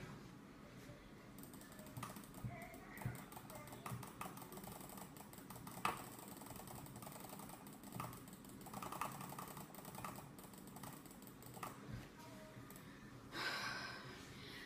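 Rapid, steady clicking of a computer mouse button in a normal click test, faint close clicks repeating throughout with no speech.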